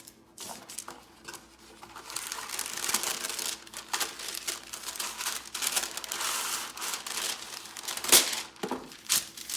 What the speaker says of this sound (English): So we use parchment paper for this because it works the best.